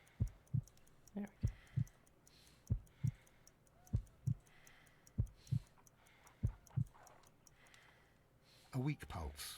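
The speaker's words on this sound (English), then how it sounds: "I need to concentrate and count the heartbeats." Slow heartbeat in Sherlock Holmes: Crimes and Punishments, close low lub-dub thumps in steady pairs, around nine beats, over a faint ticking and quiet background, with a brief voice near the end.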